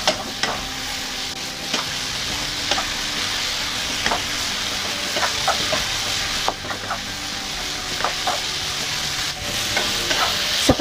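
Cucumber stir-fry with oyster sauce and fish sauce being stirred in a pan: a continuous loud sizzle broken by repeated scraping and clinking strokes of a spatula, with no voices.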